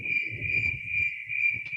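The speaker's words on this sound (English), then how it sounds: "Crickets. Crickets." Crickets chirp in a steady, unbroken high trill, clear and constant over a low room rumble at a tech lightning-talk event.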